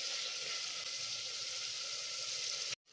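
Whole green chillies frying in hot oil in a pan for a Mangalorean fish curry, giving a steady, even sizzle throughout that cuts off abruptly near the end.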